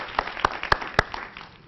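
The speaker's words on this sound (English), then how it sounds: "We'll give her a round of applause anyhow." A few scattered, separate claps ring out at a high school artists and scholars recognition event, sparse and fairly faint, fading quickly after the first handful.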